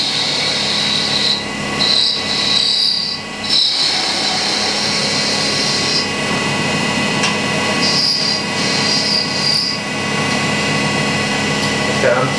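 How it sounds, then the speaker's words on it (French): Parting tool cutting into wood on a lathe while turning a small wooden teapot, a loud steady scraping hiss with a whining edge that comes and goes in several bursts, a voice speaking briefly over it. "Ensuite on va prolonger au bédane."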